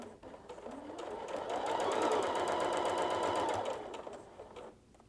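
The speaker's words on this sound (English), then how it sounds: "Drop my presser foot. Sew that line." A sewing machine stitches a single line through a paper-pieced quilt block, its rapid steady needle rhythm swelling for a few seconds before slowing to a stop, close and fairly quiet.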